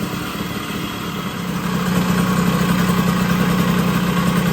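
A cold 1980 Puch Murray moped engine idles while warming up in freezing weather, holding a steady buzzing drone close by that grows louder and fuller partway through, with no voices.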